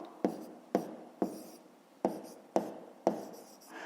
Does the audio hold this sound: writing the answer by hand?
yes